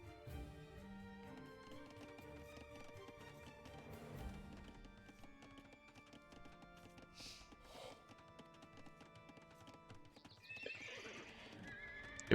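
Horses at a newly built stable in a strategy game whinny and neigh while hooves clip-clop, in several short game sound effects layered over a tonal background.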